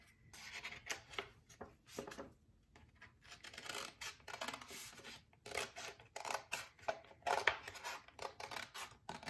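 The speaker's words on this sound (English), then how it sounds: "I'm going to pick it up, take my scissors, and cut along this line so that this extra paper comes off." Scissors snip through paper in a series of short, crisp, irregular cuts that start and stop close to the microphone, removing excess paper along a line during a collage craft; no talking.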